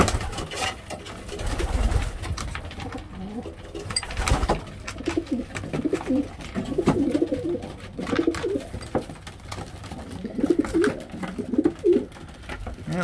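Pigeons cooing in a breeding loft, repeated low throaty coos in uneven bursts, fairly close, with faint rustling and background noise.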